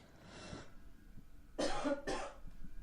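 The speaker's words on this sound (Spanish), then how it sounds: "me está dando mucha tos" Three harsh coughs come close to the mic: a softer one first, then a pair of loud, rapid bursts after a short pause, against a quiet room.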